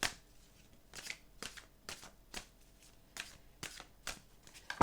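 Oracle cards are shuffled and cut by hand in a quiet room: a series of soft, close riffling bursts separated by short pauses, with no voice.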